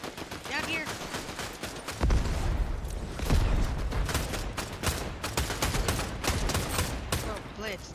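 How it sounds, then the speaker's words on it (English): Dense, rapid gunfire from a shooter video game rattles on without a break, with bursts overlapping at a fairly steady loudness and voices faintly underneath. "I still hear gunshots."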